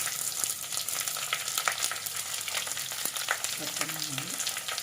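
Sliced onions and kanthari chillies fry in a pan, a steady close sizzle with a few sharp crackles and occasional light stirring, no talk.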